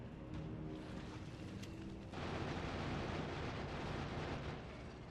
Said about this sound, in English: I panicked and fired the cannon